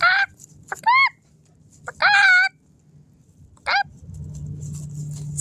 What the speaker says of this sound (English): See? Chicken.